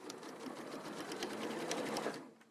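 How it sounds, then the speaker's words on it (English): Sewing machine stitching fabric tabs for a box bag, a steady rapid whirring with a fast needle rhythm, close and fairly quiet, running continuously before slowing at the end. "So I'm just sewing both tabs."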